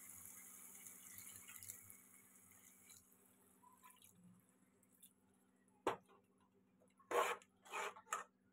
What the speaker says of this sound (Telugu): కొన్ని వాటర్ వేద్దాం